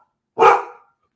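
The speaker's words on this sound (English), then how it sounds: "Boy, it's my dog." A big dog gives one short, sharp bark indoors, close and loud, with silence before and after.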